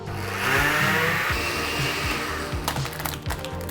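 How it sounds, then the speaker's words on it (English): A blender whirs loudly mixing milk and vanilla ice cream, its motor pitch rising and dropping as contents churn, then turning choppier and more irregular toward the end. "Put in the blender. Time to mix it all up."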